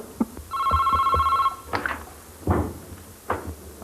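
A telephone rings in a Pakistani drama scene, a single steady electronic ring lasting about a second, followed by a few soft knocks and handling sounds with no talk.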